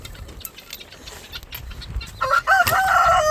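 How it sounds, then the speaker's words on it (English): Farmyard chickens cluck and rustle faintly at first, then a rooster crows loudly and close in a long, wavering call near the end. "Y'all giving hell to my chickens, man."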